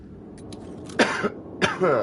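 A person coughs twice, harsh and throaty, close to the listener, after a few soft rustles and breaths with a brief throat-clearing rasp at the end.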